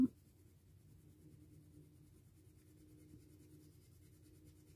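Soft, steady scribbling of a unicorn crayon pressed hard on paper, a faint continuous scratching with one brief louder touch at the start, no talk.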